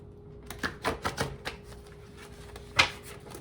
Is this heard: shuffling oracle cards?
yes